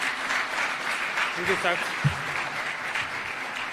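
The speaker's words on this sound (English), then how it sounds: "Let's clap for him as he comes." An audience at State House applauds steadily as the President of Kenya arrives, a moderately loud, even patter of clapping throughout, with a voice speaking briefly over it.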